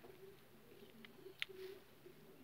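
Pigeons coo softly in a quiet loft, a few low murmuring calls with a brief sharper chirp in the middle.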